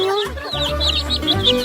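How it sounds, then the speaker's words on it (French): Close, lively clucking from hens mixed with high, repeated peeping from chicks, overlapping in quick bursts at a fairly loud level. "Regardez, c'est des vrais poulets. Oh, regardez ces poussins."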